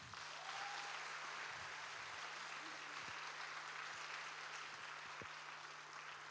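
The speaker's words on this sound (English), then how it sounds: "a big round of applause." A gathering at an alumni event gives a big round of applause. The clapping is faint and distant, an even, continuous wash over a low steady hum throughout.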